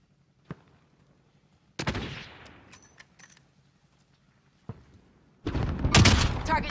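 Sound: assault rifle gunfire, from a video game

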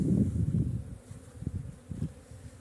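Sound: bees buzzing around a small hive nucleus

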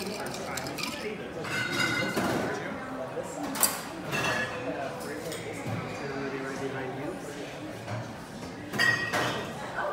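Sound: stirring a cocktail with ice

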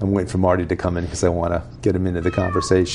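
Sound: cat meowing

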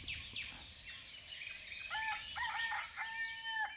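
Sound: wild junglefowl crowing in Nam Nao National Park

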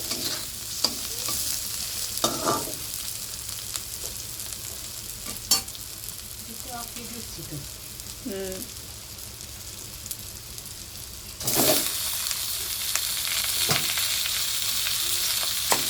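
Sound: frying onion and chicken in a pan

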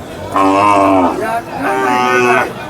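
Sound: cattle mooing at Sangola bull market

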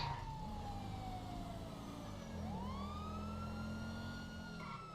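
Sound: stolen police car siren in GTA 5 video game

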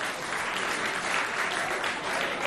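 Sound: audience applause for Naomi and her twin

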